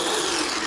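A Kalor 3L electric food chopper's motor whirs in a short, steady, fairly loud burst with no talking.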